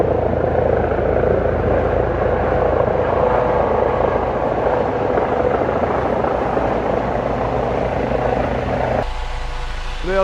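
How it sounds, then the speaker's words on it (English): Helicopter circling low over a tent at an off-grid campsite, a steady loud rotor and engine roar that holds for about ten seconds, then thins and shifts near the end as it passes. "There is a helicopter outside. It's literally circled my tent about 3 times now."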